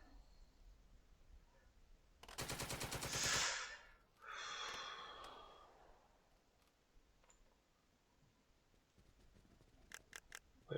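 Video game gunfire in a World War II village battle in Second Front: a loud burst of rapid automatic fire, then a rushing blast, and later a few sharp scattered clicks and shots against quiet background.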